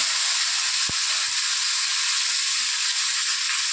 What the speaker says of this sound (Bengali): ঝোলটা একটুখানি হালকা ফুটতে দেব